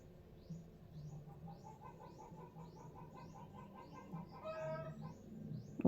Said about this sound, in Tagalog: Ang ingay ng manok sa labas